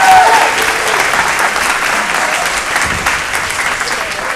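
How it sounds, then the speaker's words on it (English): Close, loud audience applause at a debating championship semifinal, a dense steady roar of clapping hands that holds evenly throughout and fades only slightly at the end. "Please have a round of applause for all of our players"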